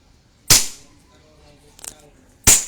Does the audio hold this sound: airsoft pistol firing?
yes